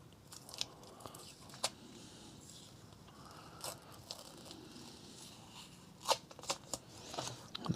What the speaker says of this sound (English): So pretty much all I've got left to do now is just peel off this masking tape.